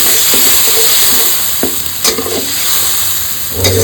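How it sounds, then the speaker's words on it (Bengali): Spice masala loosened with a little water, sautéed and stirred in a pan for a pointed gourd dish: a close, loud, continuous sizzle broken by a few sharp scraping strokes of a spatula. "দিয়ে এবার মশলাটাকে কষাবো"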